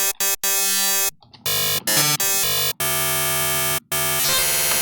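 A Sytrus software synthesizer plays a resampled wavetable at C5. The bright, buzzy sustained notes come in choppy bursts separated by abrupt short gaps.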